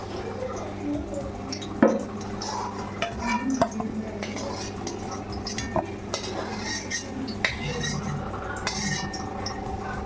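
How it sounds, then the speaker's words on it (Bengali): Fried potatoes scooped out of a pan of hot oil with a metal utensil: scattered scraping clinks and taps over a low, steady kitchen hiss, with one sharper knock near the start. "এবার আমি আলু ভাজাটা তুলে নেবো"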